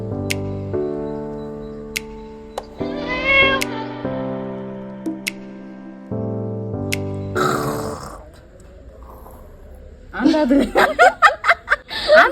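A sick cat gives a few mewing cries between long sustained musical tones, and near the end there is a burst of loud, choppy vocal noise that may be a person imitating the meow or laughing.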